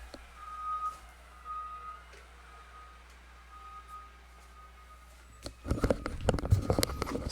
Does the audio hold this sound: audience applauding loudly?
no